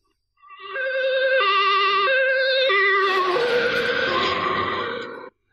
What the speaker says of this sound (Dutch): En dat is vanwege het Doppler-effect dat we kennen van de sirene van de ambulance.